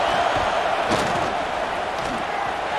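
A packed stadium crowd in College Football 26 roars for the defense on a big third down, a loud, continuous wall of cheering and noise with a brief swell near the middle.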